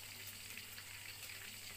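Chicken heads fry in a pan of hot oil, giving a steady close sizzle dotted with small pops and crackles, with no talk.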